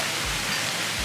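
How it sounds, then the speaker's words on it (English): Steady rushing water in a water park lazy river, a continuous broad wash of flow heard close with no break and no voices over it. "This is the lazy river."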